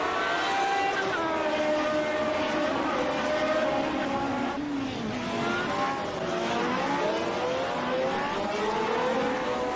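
Several Lotus 79 race cars in a sim racing video game roar together, engines whining and shifting pitch as they run close, a loud, constant layered drone for the whole stretch.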